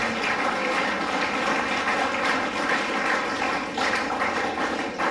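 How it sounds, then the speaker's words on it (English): A roomful of people at a workshop held at Crescent Public School gives the school principal a dense, steady round of applause that stays fairly loud for several seconds. "So I would also request you all to give big round of applause for her"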